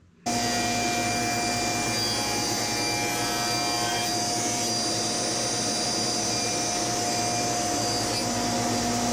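A power saw cuts through wood held by a modified Kreg bench clamp, a loud steady motor whine and cutting roar that starts abruptly and runs without a break.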